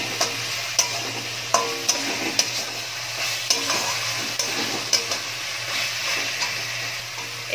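Fried potatoes are stirred into a masala for vegetarian chhanar dalna, a steady oily sizzle underneath while a spatula scrapes and taps the pan at irregular intervals, close and clear.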